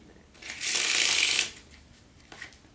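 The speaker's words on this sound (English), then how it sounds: "So that's the FARO shuffle." A deck of playing cards is faro shuffled, a short crisp burst of riffling flutter as the halves weave together, close and alone, followed by a few soft taps.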